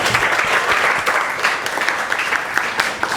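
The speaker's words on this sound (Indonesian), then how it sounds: "tepuk tangan dulu" Classroom applause from a group of students during a teacher training session, a moderate patter of clapping with distinct individual claps, steady throughout and fading slightly near the end.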